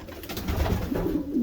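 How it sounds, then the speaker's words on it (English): Racing homer pigeons coo softly inside a small loft, a steady close murmur of low, rolling calls with several birds overlapping. "You can have many pigeons."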